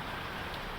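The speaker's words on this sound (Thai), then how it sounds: "ฝนตกตอนนี้" Rain falls over the village of Ban Na Kham as a brief, even, soft hiss with no voices.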